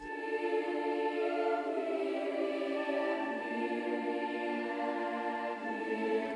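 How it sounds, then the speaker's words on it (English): Sustained choir pad singing soft held chords that shift slowly, smooth and even throughout, moderately quiet with no talking. "Sound dope, and then we have a choir."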